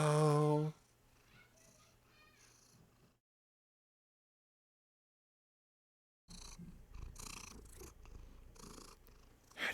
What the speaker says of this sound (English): How do you purr so loud?